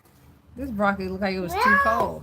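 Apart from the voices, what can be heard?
cat meowing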